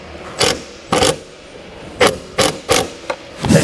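A quarter-inch drive ratchet with a 10mm socket tightens the bolts of towing mirrors being fitted to a Toyota Landcruiser 70 Series, giving several short, close, scraping ratchet bursts in an uneven rhythm with quiet gaps between them.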